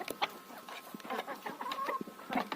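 Chickens cluck in short, irregular bursts close by, with several birds calling over one another and no talking, on a village farm in Ukraine where goats roam with them.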